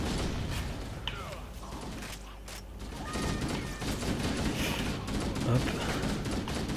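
Dense gunfire in the video game Halo, with bursts of shots layered over game music and mechanical clatter, loud and continuous; someone speaks briefly over it.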